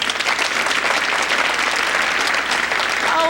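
Loud, sustained audience applause fills a stand-up comedy show, dense clapping steady throughout with a faint voice beginning near the end.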